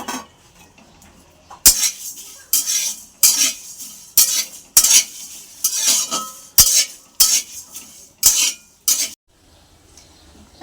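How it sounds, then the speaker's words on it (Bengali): Coriander seeds dry-frying in a pan for mango pickle, stirred with a utensil in about a dozen evenly spaced scraping, rattling strokes, loud and close with no talk. "ধনে, ভেজে নেব এগুলোকে এখন।"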